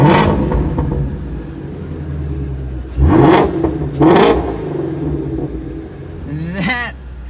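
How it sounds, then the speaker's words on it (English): A stock Ford Mustang V8 revs in several loud, deep, rumbling bursts over a steady idle, with sharp rises and falls, while a person talks in between. "it sounds like, obviously it has a V8 sound"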